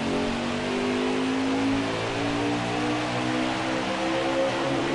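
A pack of NASCAR Craftsman Truck Series race trucks accelerates at a green-flag restart on the final stage of the O'Reilly Auto Parts 200, a dense, continuous engine roar with slowly rising pitch, steady and fairly distant.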